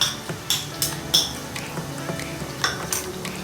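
Chopped garlic and ginger sautéed in a pan for chicken momos, with a metal spoon scraping and clinking against the pan in short repeated strokes over a soft, steady background sizzle.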